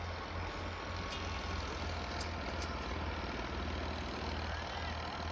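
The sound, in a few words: tractor engine running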